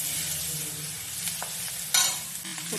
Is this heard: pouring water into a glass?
no